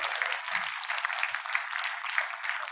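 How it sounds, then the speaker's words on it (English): An audience at a Pune brand summit and awards event applauds a speaker, with dense, even clapping that holds steady throughout at close range. "Please give a huge round of applause for Sir."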